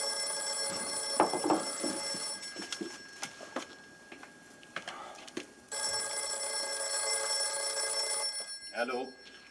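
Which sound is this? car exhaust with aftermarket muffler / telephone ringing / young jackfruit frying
telephone ringing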